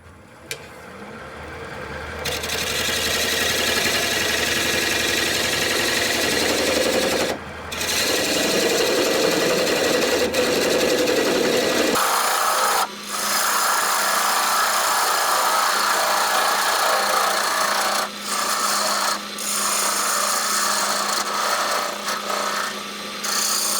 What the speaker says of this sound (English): this time I'll use my little spindle gouge and remove this base